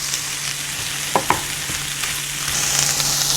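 Eggplant cooks in a hot pan with a steady, soft sizzle close by, broken by a couple of quick stirring clicks.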